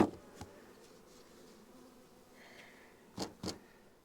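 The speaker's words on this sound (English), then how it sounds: "I'm not gonna do too much more to these bees except let them fly." Honeybees from an opened hive buzz softly and steadily nearby, with a few louder close passes and handling knocks interrupting the low hum.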